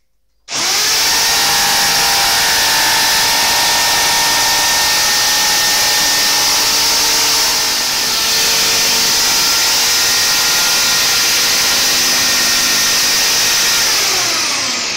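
A power saw runs continuously and loudly, cutting a timber board into an end panel for a cold frame built from old windows; the steady whine holds for the whole stretch with no talking.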